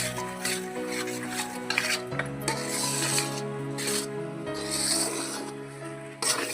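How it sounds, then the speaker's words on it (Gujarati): A spatula scrapes and stirs besan and milk in a pan with soft rubbing strokes, heard under steady background music. "દૂધ રેડ્યા પછી તાવેતાથી આ બેસનને હલાવતા રહેવું"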